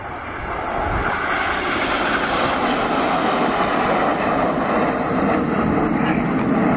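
Red Arrows jets fly a display formation overhead, a broad, steady roar that rises in the first second and then holds loud and constant, with no voices.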